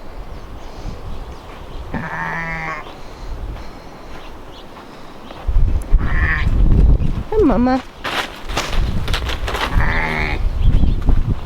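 Sheep bleat several times, wavering calls close by, with a person briefly speaking in between and outdoor rustling throughout.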